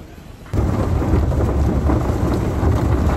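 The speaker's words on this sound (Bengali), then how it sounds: "অনেক সুন্দর বৃষ্টি পড়তেছে" Heavy rain pours down outdoors on a Dhaka street, a dense steady roar that starts abruptly and then holds loud and constant with no talking.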